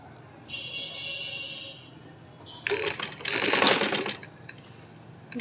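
An electric sewing machine stitches the shoulder seam of a one-year-old girl's shirt, a steady whirring run of close, moderately loud mechanical clatter after a faint hum.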